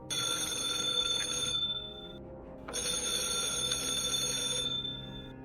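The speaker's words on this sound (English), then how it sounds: "I heard a phone ring from somewhere inside the house" A bell-like telephone rings twice, each ring a sustained metallic trill separated by a brief pause, fairly faint against a quiet room.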